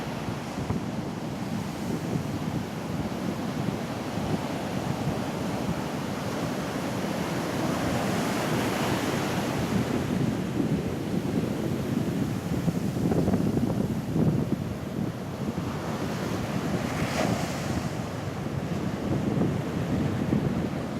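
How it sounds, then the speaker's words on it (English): Ocean surf rolls and washes back continuously with strong undertow on a beach at Forster, a steady broadband roar with rising swells and some wind buffeting the microphone. "Got the waves rolling back,"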